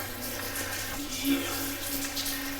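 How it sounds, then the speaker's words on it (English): Water running through a storm drain tunnel in Mira Mesa gives a steady, continuous rushing wash that fills the whole clip, with faint muffled voices in the background. "Here's the water."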